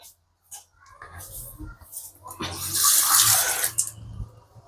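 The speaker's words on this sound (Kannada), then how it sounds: "ನೋಡಿ ಇಷ್ಟೇ ನೀರು ಹಾಕೊತಾ ಇದ್ದೀನಿ." A little water is poured into a mixer jar, making a brief splashing trickle that swells for a couple of seconds, then fades, with a few faint clinks around it.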